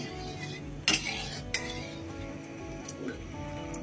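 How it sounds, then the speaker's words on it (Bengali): Cinnamon and a bay leaf stirred in a generous amount of hot oil in a pan for olive chutney, with a few metallic clinks and scrapes of the spoon over a steady low kitchen hum. "এখন দারচিনি এবং একটা তেজপাতা দিয়ে দিব, দিয়ে এটা নাড়বো কতক্ষণ।"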